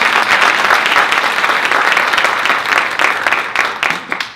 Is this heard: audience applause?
yes